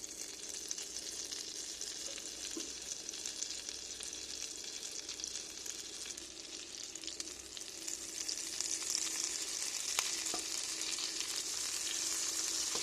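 Butter melting into about 50 ml of hot avocado oil for garlic butter shrimp gives a steady, close frying sizzle throughout, with a bright crackling hiss that swells a little louder toward the end, with no talking.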